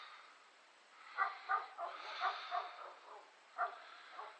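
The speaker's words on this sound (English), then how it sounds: "There's the dogs." Several dogs yip and bark in quick, high-pitched bursts at a moderate distance outdoors during a potato harvest, with no talking over them.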